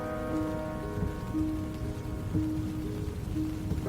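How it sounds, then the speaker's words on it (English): Light drizzle patters steadily on a canvas Jeep top in a river canyon, a soft continuous wash of drops with a low sustained tone humming beneath it throughout. "Rain drizzled over the canyon of the South Fork of the Ogden River."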